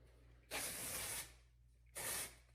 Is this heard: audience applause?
no